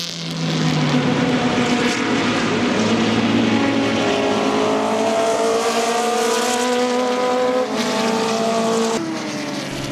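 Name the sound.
Super V and Formula race cars racing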